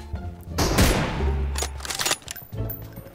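Gunfire in PUBG Mobile: loud, booming M24 sniper rifle shots from a mobile battle royale game, a couple of heavy reports with echoing tails in quick succession.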